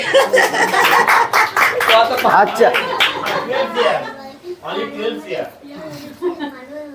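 A group claps along during a festive Christmas Day cake gathering at Gauripur Joy Mission, steady hand claps running beneath lively talk, children's voices and chuckles before fading out as speech continues.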